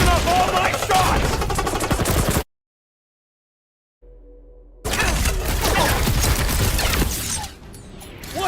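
Rapid gunfire and shattering impacts in a combat scene from the video game Marvel's Guardians of the Galaxy, loud and dense with other game noise, broken by a few seconds of near silence before the barrage resumes.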